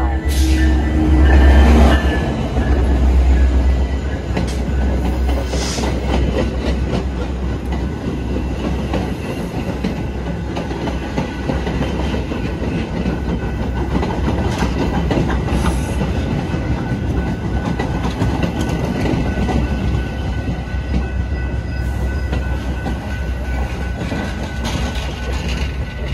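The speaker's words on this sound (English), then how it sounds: "Milwaukee West Main Line train number 2227 to Big Timber is now arriving." A Metra commuter train on the Milwaukee West line pulls into Franklin Park station, a steady, loud rumble of wheels and rail clatter that carries the whole stretch, with a heavy low thump near the start.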